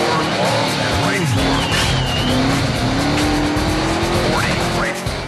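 A rally car races in the Colin McRae Dirt video game, its engine droning loud and continuous with rising and falling revs and gear changes, plus tire squeal and skidding.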